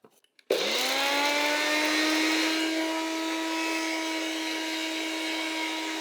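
A grinder whirs steadily as it blends mastic granules and sugar into powder, starting abruptly after a brief quiet moment and holding a loud, even motor whine throughout.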